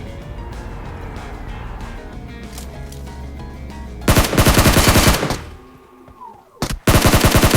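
Video game gunfire in a battle-royale match, first as distant shots under a vehicle's engine drone, then sudden loud bursts of rapid automatic fire close by, a pause, and another sharp burst.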